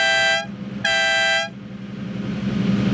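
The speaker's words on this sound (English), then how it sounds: "You push it in towards the steering wheel, and that activates the horn." Horn of a Lamborghini Jarama sounds twice, close and loud: a brassy, harmonic blare of about half a second, a short gap, then a second, slightly longer blast, over a low idling background.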